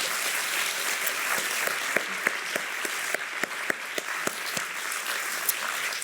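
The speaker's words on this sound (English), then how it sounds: "how about a round of applause for Stephora?" Sustained applause from a university audience at a state of the university address, a dense even clatter with distinct louder claps from close by scattered throughout, no voices.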